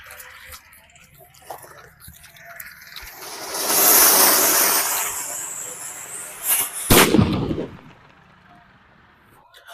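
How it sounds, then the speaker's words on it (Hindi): A Ganga Jamuna 2-in-1 anar firecracker during Diwali fireworks testing: a loud, rising shower of fountain hiss builds for several seconds, then breaks into a sharp bang and crackle before dying away. "वो अनार भी था और भाई वो पटाखा भी था, क्योंकि भाई वो 2 तरीके से फूटा है"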